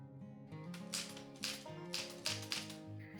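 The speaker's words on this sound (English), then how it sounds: "And under the nightstand I found a typewriter." Keys strike an old typewriter found in a house in Italy, with several quick, crisp clacks in bursts over faint background music.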